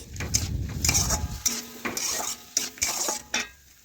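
Potatoes cooking in a pan while being stirred, with a clatter of metal utensil against the pan at first, then sharp scrapes and clinks over a light sizzle, close by and with no voices.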